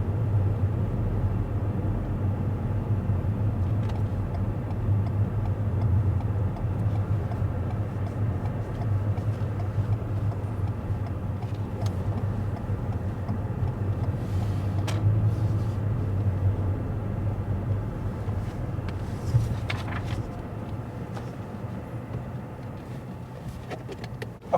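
A car's cabin drone as it drives steadily along a road, a constant low rumble with road noise throughout, no clear stop at a kerb and no voices.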